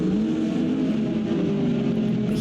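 Race cars, a Toyota GR86 and a Lamborghini, roar together at Watkins Glen in a sustained, loud engine drone with steady pitch climbing slightly as they accelerate.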